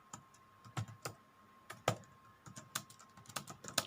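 Data being typed into a C++ program on a computer keyboard, a quiet, irregular stream of distinct key clicks with a few heavier strikes, close up against a faint steady hum.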